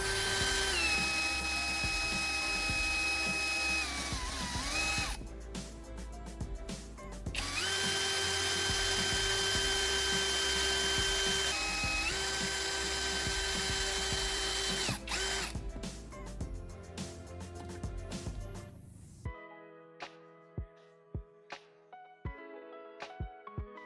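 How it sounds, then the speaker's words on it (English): A power drill whines as it bores holes in a circuit board, several sustained high-pitched bursts with pitch shifts as it bites, then stops and clicks sharply while handled, close and loud with no talk. "Using a drill, I drilled holes to secure the wires I just soldered to the circuit board."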